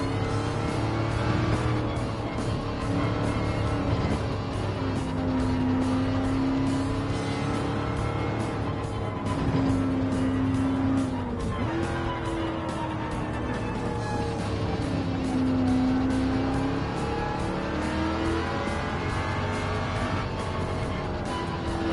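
Race car engine in Gran Turismo 7 droning at a steady high pitch, rising and falling as it shifts and revs through gears, close and continuous with no talking.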